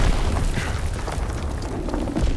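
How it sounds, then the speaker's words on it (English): A sticky grenade detonates in Call of Duty: WWII gameplay, a loud heavy boom that rumbles on as a dense roar through the whole short span. "Sticky grenade."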